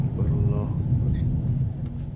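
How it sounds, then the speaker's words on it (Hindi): Strong sandstorm wind buffeting a vehicle on the old Taif road near Madina, a steady loud low roar and rumble throughout with no talk over it. "ये अब शदीद हो गया तूफ़ान"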